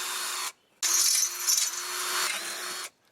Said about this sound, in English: I just want to make sure that I'm not going to really beat up or damage the threads when I'm drilling them through the metal.